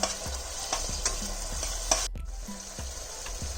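Spices being stirred into tomato paneer in a hot pan, a spoon scraping in a steady rhythm of repeated strokes over a continuous close sizzle of frying.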